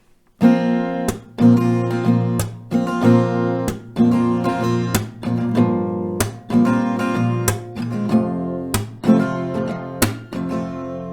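An acoustic guitar strums a slow chord progression, each chord struck sharply then ringing out, in a steady repeating rhythm with no voices.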